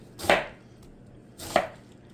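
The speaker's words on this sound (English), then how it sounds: "So I'm just going to quickly slice a little bit of it." A knife slices cabbage for a vegetable stir-fry in two crisp, separate cuts about a second apart. Each stroke is close and clean, with quiet in between.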